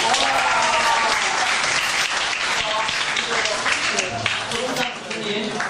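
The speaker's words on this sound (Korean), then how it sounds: "박수 한번 주세요. 박수!" A student audience at a Korean history lecture at an international school in Hong Kong bursts into loud, continuous applause, a dense, close wash of clapping with some voices underneath.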